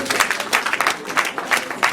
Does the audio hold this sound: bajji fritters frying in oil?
no